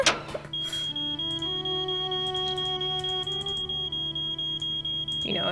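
An electronic alarm in the Nancy Drew: Treasure in the Royal Tower video game sounds as a continuous high, steady tone with lower hum, pulsing with faint regular clicks for over five seconds, loud and alone.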